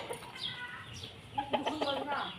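Chickens cluck faintly around an old house, a few quiet, scattered calls in an open outdoor setting, with people talking nearby.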